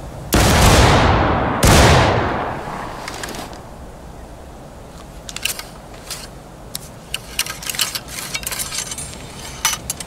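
Two massed musket volleys in the Civil War game War of Rights, loud sharp cracks about a second apart with long rolling echoes, followed by scattered clicks and rattles of reloading at a drill camp.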